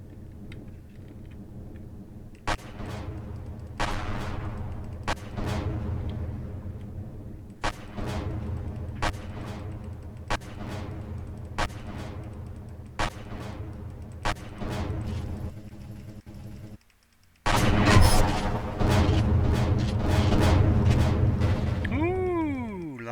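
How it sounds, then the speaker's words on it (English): Explosions in the space survival game Empyrion Galactic Survival: a series of sharp booms at irregular intervals over a low engine drone, then a brief silence and a denser burst of blasts with sweeping tones near the end. "Lots of secondary explosions there."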